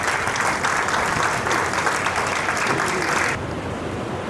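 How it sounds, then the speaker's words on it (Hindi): An audience at a book publishing event claps steadily for several seconds, a dense and close burst of applause that stops abruptly, leaving a quieter room. "अब तालियों में गुरेज ना किया जाए"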